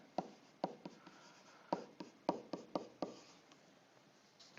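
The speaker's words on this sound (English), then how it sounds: "And I'm going to write it over here." Marker or pen strokes writing out a math problem on a board, a close series of short sharp taps and scratches at an uneven rhythm, with no talking.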